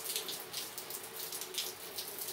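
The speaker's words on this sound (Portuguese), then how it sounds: "Chuvinha. Ela está aumentando." Rain falling steadily and faintly, a soft continuous patter and hiss with slight swells, no voices present.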